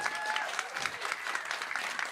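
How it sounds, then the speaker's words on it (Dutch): Applause from a crowd at a live discussion event, a dense, even patter of clapping lasting the whole moment, fairly distant and moderately loud with no voices over it. "de mannen klappen het hardst"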